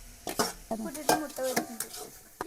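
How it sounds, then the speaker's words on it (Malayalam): Garlic, carrot and cabbage being stir-fried in a pan, with repeated scraping and stirring strokes in an uneven rhythm over a faint sizzle, close and fairly quiet. "വെളുത്തുള്ളി ഇട്ട് കൊടുത്തു ക്യാരറ്റ് മുട്ടക്കോസ്"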